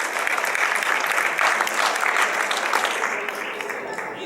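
Loud, sustained applause fills an academic award ceremony hall, a dense wash of clapping from the audience that holds for several seconds and tapers slightly at the end.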